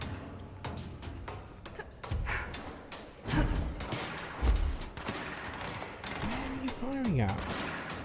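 Explosions and gunfire in the action game Control, heavy booming thuds mixed with rapid shots and clatter, while a person talks over the combat.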